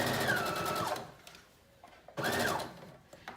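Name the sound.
sewing machine sewing the back center seam of a dress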